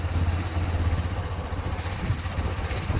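A farmer's tractor idles while queued at a crowded petrol pump at night in Hingoli, giving a steady, close, low chugging rumble with some mechanical clatter and no talk.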